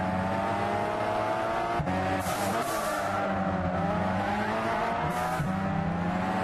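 Race cars in a Lancer Cup race at Silverstone in the Gran Turismo 6 video game roar continuously with loud, high-revving engines and shifting pitch, joined by brief tire squeals, with no talking.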